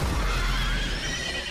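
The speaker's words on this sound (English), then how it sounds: "Is that a horse?" A horse whinnies loudly and close up in an animated film, the neigh carrying a wavering high pitch over a dense, full background for about a second and a half.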